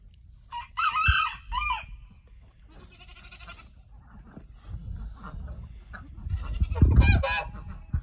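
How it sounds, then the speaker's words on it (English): Several geese honk loudly at close range in a bird-filled yard kept with peacocks and chickens, harsh repeated calls arriving in bursts with quieter gaps between, and a short burst of honking returns near the end. "Those are geese."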